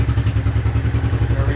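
A 1993 Suzuki King Quad 300 4x4 ATV engine runs loud and close with a rapid, even low-pitched pulsing thrum, heard briefly just as it comes to life.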